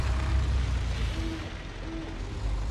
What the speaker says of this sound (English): I hear the owls, but I don't see them.